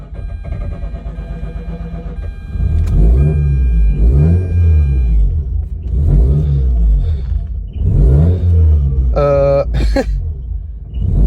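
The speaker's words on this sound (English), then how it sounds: "let's see if the car idles now" A 2004 Mazda RX-8 rotary engine rumbles and surges unevenly as it struggles to idle, revving up and dropping back repeatedly, close by and loud.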